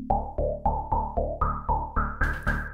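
Roland Alpha Juno 2 analog polysynth playing a resonant, filter-swept patch as a sequence of about ten evenly spaced, punchy repeated notes, stepping up in pitch near the end, loud and close with no talk.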